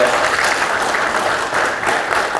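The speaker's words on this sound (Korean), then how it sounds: "큰 박수 부탁드리겠습니다." A hall audience at a Korean political lecture forum claps for a speaker coming to the podium, a brief, dense, steady round of applause.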